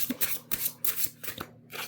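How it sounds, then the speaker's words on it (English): A deck of playing cards is shuffled up close in a few quick, crisp riffling bursts, with no talking. "Let's just shuffle one more time to settle them down"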